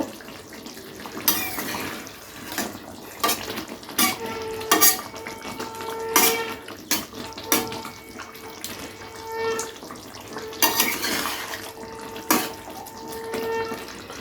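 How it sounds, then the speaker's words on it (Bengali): A spoon stirs Gandhoraj tomato katla fish curry in a covered pan, giving intermittent scrapes and clinks of metal on cookware in short bursts over a quiet kitchen background, with no talk. "এবারে একবার হালকা করে নাড়া দিয়ে দেখে নেব"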